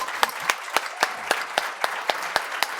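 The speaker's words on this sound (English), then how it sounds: "Another round of applause for that." Sparse, evenly spaced hand claps at a conference talk, about ten sharp slaps in a steady rhythm, fairly quiet and close, with no voices.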